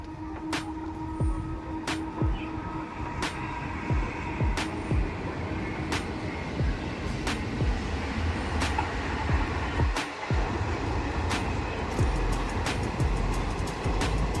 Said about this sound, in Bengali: এটা শিয়ালদা লালগোলা যাচ্ছে লালগোলা থেকে শিয়ালদার দিকে এখন এই ট্রেনটা যাচ্ছে